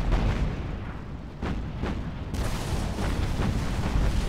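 Heavy naval gunfire from the battleship South Dakota in a Pacific WWII naval combat game, a dense continuous rumble of booming shots with a couple of sharper blasts standing out, loud and close with no talk.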